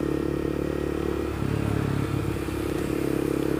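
A Honda CBR250R motorcycle on the move, its steady engine drone holding an even pitch with a brief dip in note midway, accompanied by road rumble and light rattling, loud and close.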